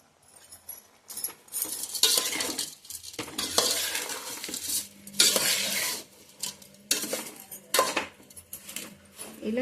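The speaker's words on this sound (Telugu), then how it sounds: "పసుపు వేసుకొని దీన్ని మిక్స్ చేసుకోవాలి." A spoon stirs turmeric into a tomato pickle mixture in a metal vessel, giving repeated close scraping and clattering strokes in irregular bursts with brief pauses between them.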